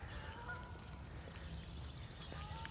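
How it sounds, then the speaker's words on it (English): Geese honking and chattering on a morning walk in a park with tall trees, scattered calls at moderate distance over a steady low rumble of background noise. "The geese are very chatty this morning."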